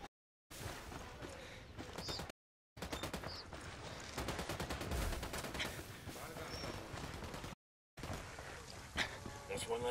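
Gunfire in Ghost Recon Wildlands, rapid bursts of automatic fire packed together in a dense, loud run broken by short silent gaps, with voices speaking in between.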